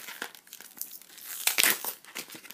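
Memory card packaging being unwrapped, with close, loud crinkling and tearing of plastic and paper in quick bursts. A sharper rip comes midway, and no one talks.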